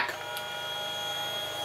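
A Canon SELPHY CP800 compact photo printer draws in paper with a steady mechanical whir and a few faint clicks, close and continuous with no talking.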